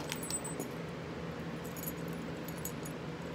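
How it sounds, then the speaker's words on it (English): Keys on a Minnie Mouse keychain jangle close by in a steady, continuous metallic rattle with bright clinking, alone and without any talking. "I love it, so I've got it with my keys."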